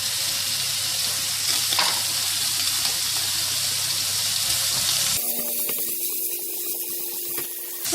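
Fish cake and tofu sizzle and fry steadily in a hot pan for egg noodles, a dense continuous crackle that shifts partway through as stirring and a splash of water change the tone.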